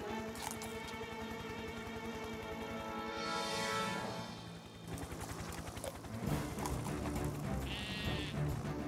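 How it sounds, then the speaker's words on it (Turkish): Lamb bleating in an animated children's cartoon, heard among music, with a clear bleat in the middle and more voiced sounds later. "Ne yapıyorsun küçük kuzu?"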